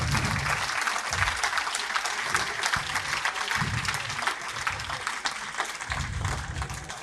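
An audience applauds award winners at a regional business awards ceremony in Brittany. Steady, full applause fills the hall throughout, with low voices and murmurs breaking through underneath.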